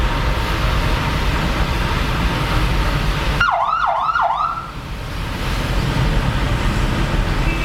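A police escort siren near Abydos Temple in Egypt wails in a few quick rising and falling sweeps, cutting sharply through steady road and engine noise before traffic rumble resumes.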